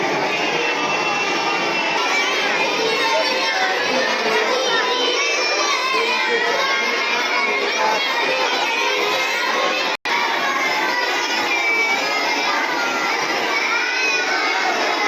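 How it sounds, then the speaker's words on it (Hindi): A dense crowd of children's voices reciting Quran lessons aloud in a mosque school chants and calls out loudly all at once, a continuous energetic babble with no pauses. "बच्चे भी ज़ोरों शोरों के साथ अपना अपना सबक पारा याद कर रहे हैं"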